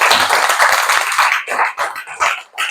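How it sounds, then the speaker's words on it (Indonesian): A group of schoolchildren claps together in a classroom, a burst of close, loud, slightly uneven clapping that thins into separate claps toward the end, with no talking. "Oke, tepuk tangan untuk kita semuanya."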